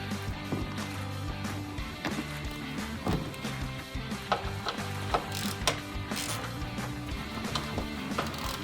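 Ratchet turning out bumper bolts on an EK car during a fog light install, a steady run of clicking pawl bursts with occasional knocks, close and fairly quiet over a low humming background.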